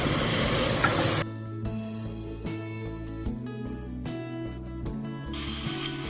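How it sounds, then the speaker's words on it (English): Diced potatoes with spices frying for a bean and potato curry, a sizzle under soft stirring, fairly quiet and close, with faint tonal background music running throughout. "It's time now for our diced potatoes to go in. Give that a good stir."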